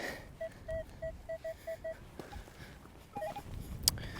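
A Minelab Manticore metal detector gives a target tone, a series of short electronic beeps repeating in a quick rhythm, then a few higher tones and a brief clank follow, all fairly faint.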